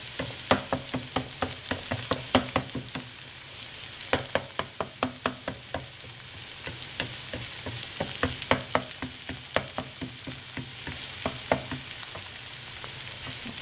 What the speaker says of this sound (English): I'm actually stirring this in high heat, as you can see the smoke coming up